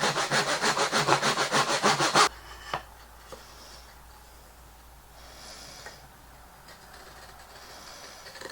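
A hand saw cutting a dado across the wood grain, with about two seconds of loud, rhythmic back-and-forth rasping strokes up close that stop abruptly, leaving a quiet room with a few faint knocks.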